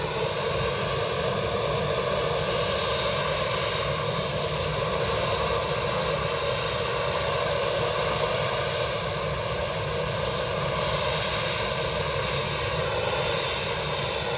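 An Airbus A350 at Edinburgh Airport gives a steady, loud jet roar with a constant broadband rumble and whine, holding level throughout with no voices.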